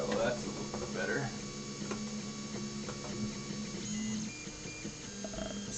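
Tevo Tarantula Pro 3D printer fitted with an E3D Chimera hot end printing in white, a steady mechanical whir with stepper-motor tones and shifting whines, close by with constant hum.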